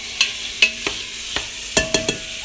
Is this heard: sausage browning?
yes